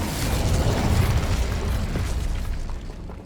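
Incendio fire spell cast in Hogwarts Legacy, a dense roaring burst of flame with low rumbling boom that holds steady for about three seconds and tapers off at the end.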